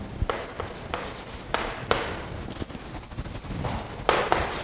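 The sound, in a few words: writing a maths problem by hand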